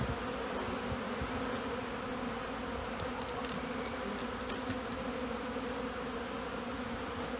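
Honey bees on a spring cleansing flight around the hive in 2021, a dense continuous outdoor buzz of many insects with no voices.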